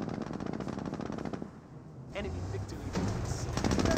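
An MG42 machine gun firing in Company of Heroes, rapid bursts in the distance with a pause, then more fire mixed with battle noise and vehicle sounds, under a commentator's voice.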